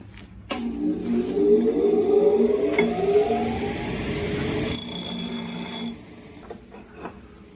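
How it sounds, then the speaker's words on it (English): An angle grinder cleans up freshly made steel motor mounts, starting with a sharp onset, whining loudly and steadily for about five seconds, then cutting off into quieter shop noise. "I'll clean these up. Grinder time."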